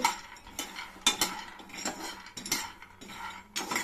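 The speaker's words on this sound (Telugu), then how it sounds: "ఈరోజు శనక్కాయలు పొడి చేసుకుంటున్నానండి. చూడండి, పెనం కాగిపోయింది. బాగా వేయించాలండి" Peanuts roast and are stirred in a hot pan, making a run of clinking and scraping knocks against the metal at an uneven rhythm, close up and moderately quiet.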